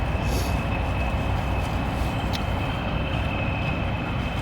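A train rumbles past at a steady, loud level, a broad continuous roar with faint squeals on top, heard outdoors with no talking.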